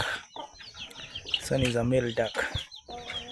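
Chickens and chicks clucking on a small mixed village farm in the late evening, a few close calls scattered through the clip alongside a male duck, with birdsong and other farmyard noise around them.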